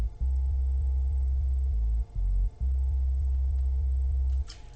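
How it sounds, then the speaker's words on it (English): Deep, sustained future bass synth sub bass notes pulse in long held tones with a couple of brief gaps, loud and alone with no voices. "Then comes the sub bass."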